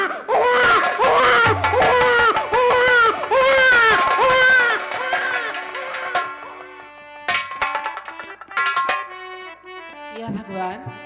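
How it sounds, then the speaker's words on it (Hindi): A baby wails in repeated loud, warbling cries that fade into softer whimpers, with musical instrument notes and scattered sounds afterward. "चलती हूँ, देखती हूँ कि बच्चा कहाँ रो रहा"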